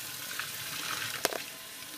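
Water poured into a sink while making soda with a home carbonation machine, a steady broad rush with a small splash or clatter near the middle, no voices.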